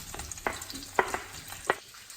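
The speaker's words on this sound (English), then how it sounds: "let it sit, let it sizzle, you'll hear it nice and loud" Spam fries in hot oil in a home kitchen, giving a soft continuous sizzle broken by sharp crackling pops at irregular intervals, close and fairly quiet, with no talking.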